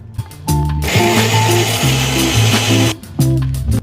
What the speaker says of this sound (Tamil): அதே ஜார்ல கடலைப்பருப்பு அரைச்சு எடுக்க போறோம்.